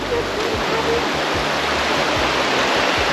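Steady, full rushing water flows continuously with no pauses, like a river running close by, and a few faint low thumps sit underneath.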